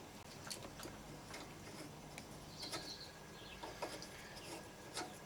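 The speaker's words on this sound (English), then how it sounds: "we unscrew this bolt." A bolt on a Suzuki DL650 V-Strom fuel tank is loosened with a 12 mm tool, giving faint scattered ticks, light clicks and soft scraping in a quiet, close setting.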